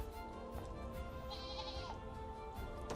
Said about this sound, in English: see if the goats have returned